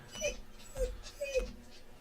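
Cute little puppy whimpering in short, soft high yips, about three brief cries spread across two seconds, faint and close over a quiet room.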